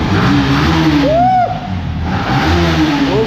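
A second-hand motorbike at a used bike dealer in Hyderabad is revved hard, its engine note climbing and falling in two loud, close bursts with a brief dip between them.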